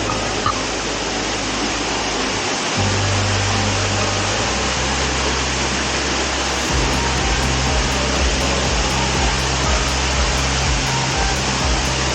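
A waterfall pours down a hillside at Thoseghar, heard from below the cliff as a loud, unbroken broadband roar that fills the whole stretch without pause or speech.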